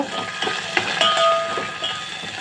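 A spoon stirring curd chutney with salt and turmeric in a pan on the stove, soft scraping and clinking strokes over a light steady sizzle, close and continuous without talk.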